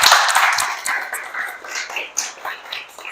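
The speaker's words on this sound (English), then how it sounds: "We get another round of applause for Chuck." Audience applause at a SILICON SWAMP tech meetup: a round of clapping from the crowd that swells at the start and tapers through the clip, with scattered individual claps and no talk.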